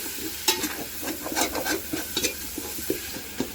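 Onions and tomatoes fry in oil in a pan while a spoon stirs them, giving a soft steady sizzle broken by repeated scraping strokes, with no voices.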